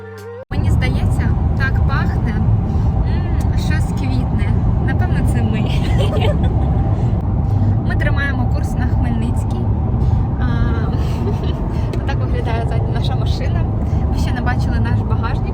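A car drives along a road on a tour trip, with steady loud engine and road rumble filling the cabin and people talking over it throughout.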